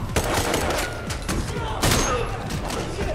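Rapid gunfire crackles in a scene from the John Wick movie, a loud burst of shots and heavy thuds packed together over a dense, busy soundtrack.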